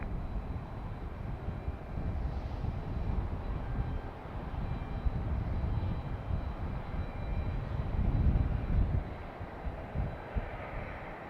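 An airliner arriving at Raleigh-Durham International Airport gives a steady, broad engine roar heard from a distance that swells slightly near the end, with no talking.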